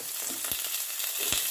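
Potatoes and flat beans fry in a pan with very little oil, giving a steady close hiss of sizzling with a couple of soft knocks from stirring, no voices.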